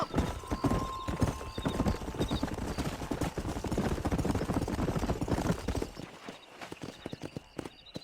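Rapid hoofbeats of a galloping horse in the Western video game Red Dead Redemption, a dense, steady clatter lasting several seconds, then thinning to scattered lighter clops as the ride slows.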